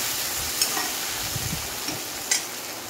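Green chilies and tomatoes cooking in a pan with onions, paneer and capsicum nearby, giving a steady close sizzle with a few light clicks and stirring scrapes, no voice over it.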